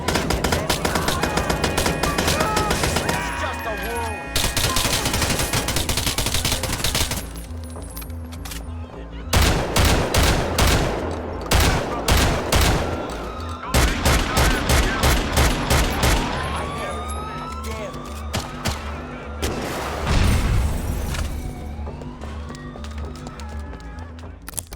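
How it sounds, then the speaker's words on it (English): Modded gunfire and explosions in the video game GTA 4: dense bursts of automatic fire, rapid rattling volleys, sharp single shots and booming blasts in continuous loud succession with no talking. "this mod does it perfectly by adding much more authentic sounds to all guns, including reloading, distant shots,"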